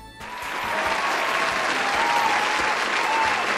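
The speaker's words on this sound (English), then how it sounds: "please give a big round of applause to the newest member of the channel" A steady, dense crowd applause sound effect of many hands clapping at once starts abruptly and holds at an even level throughout.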